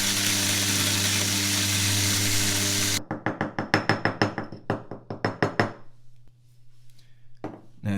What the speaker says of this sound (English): let's grind up a little bit more coffee